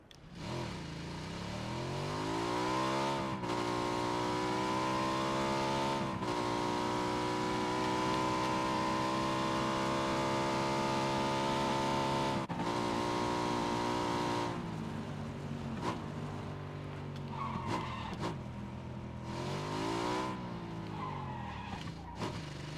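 A motorbike engine in the PUBG battle royale game drones and revs continuously, its pitch sweeping up and down with gear shifts and throttle changes, loud and steady with no talk over it.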